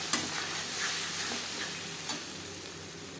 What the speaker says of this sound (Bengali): কুড়ি পঁচিশ সেকেন্ড জিরে ভেজে নেওয়ার পর দিয়ে দেবো মশলাকে জিরে গোলমরিচ ও টমেটোর পেস্ট